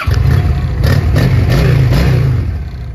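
A 2009 Honda Shadow 750 Aero cruiser motorcycle engine idling close by, a steady loud low rumble with slight rhythmic pulsing throughout.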